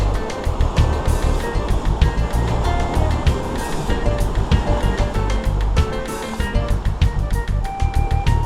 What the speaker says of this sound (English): these waves are splashing up this high